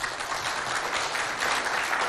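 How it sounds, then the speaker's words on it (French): Audience applause at a school poetry contest event between two CEG schools in Chad, steady dense clapping filling the whole moment at moderate loudness with no talk over it. "On l'applaudit bien fort, s'il vous plaît."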